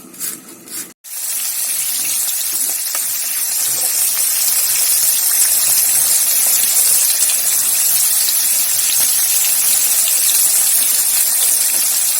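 Running tap water pours steadily over chopped cabbage for washing, a continuous close gushing hiss after a brief break at the start.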